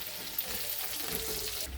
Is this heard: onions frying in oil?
yes